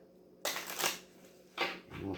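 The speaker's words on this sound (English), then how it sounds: "And we'll shuffle them one more time." Tarot cards being shuffled by hand in two short riffling bursts, each a crisp papery flutter lasting under a second, close and fairly quiet with a pause between.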